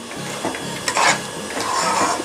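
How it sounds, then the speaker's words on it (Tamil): A spoon scrapes and stirs rava milk sweet in a pan, giving soft, close, irregular scraping strokes with light clinks, and no talk over it. "இதை நல்லா நம்ம இப்போ அப்படியே கிண்டி விடலாம்."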